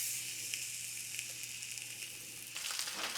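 Shrimp sizzling and frying in a hot pot, a steady bright hiss throughout with small crackling pops, louder and busier near the end.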